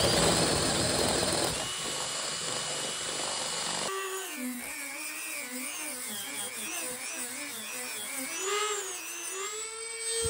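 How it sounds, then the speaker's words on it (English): A power drill bit bores out and enlarges a hole while building a fishing-lure turner, starting with a harsh, loud grinding burst and then shifting to a wavering, high-pitched whine that rises and falls. "I'm going to use this bit here to drill out that hole, try to get it as big as I can"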